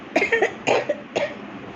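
A sick person coughs three times in quick, harsh bursts, loud and close, with no other sound in between.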